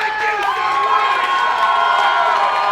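Wrestling show crowd cheering and shouting steadily, a dense roar with excited voices and some clapping mixed in, loud and continuous throughout.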